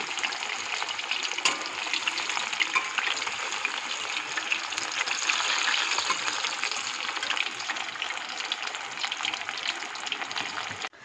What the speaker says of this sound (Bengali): এবার আমি পমপমগুলো একটা একটা করে তেলের মধ্যে দিয়ে দেব।